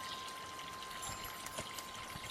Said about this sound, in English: hear the water running, and it's just a neat sound with the birds